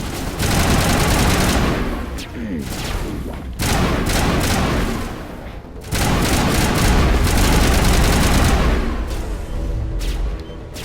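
Sustained gunfire and booming impacts in Mass Effect Legendary Edition, loud continuous bursts of weapon fire broken by brief lulls around two, four and six seconds before the barrage resumes close and heavy.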